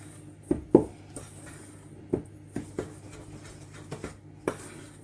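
A spoon stirring spices through flour in a bowl for raisin bread, giving a few scattered, soft clinks and scrapes against the bowl, close and fairly quiet, with no talk.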